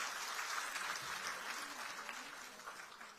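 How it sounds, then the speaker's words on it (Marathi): Sustained crowd applause rises at a farmers' event in honour of progressive farmers, a dense steady clapping that carries on evenly and fades slightly toward the end. "या सर्व प्रगत शेतकऱ्यांसाठी एकदा जोरदार टाळ्या व्हायला पाहिजे"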